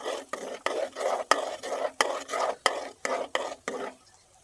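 A spoon stirs boiling milk with milk powder and cornflour in a pot, giving about a dozen evenly spaced swishing strokes, each ending in a light clack against the rim, close and alone before fading out.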